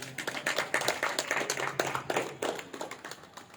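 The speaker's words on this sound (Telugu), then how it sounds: "ఒకసారి గట్టిగా ఒకటి చప్పట్లు కొడదాం" An audience at a spiritual discourse on self-knowledge and meditation breaks into a burst of dense, rapid clapping that swells and then tapers off over a few seconds, with no voices over it.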